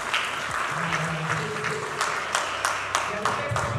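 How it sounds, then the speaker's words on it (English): Audience clapping during a live news broadcast, a steady crowd clap with a few sharper individual claps standing out, with a voice talking over it. "This clap for us now."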